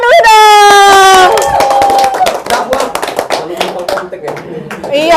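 An audience claps during an online school event, a patter of hands that builds after an opening stretch of loud tonal voice or music and continues with cheering noises and scattered voices.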